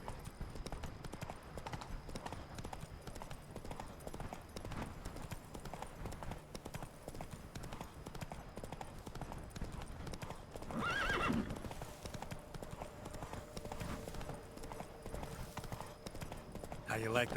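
Roach, a horse in the video game Witcher 3, gallops with steady clip-clop hoofbeats throughout and gives one loud neigh partway through, while someone talks over the action.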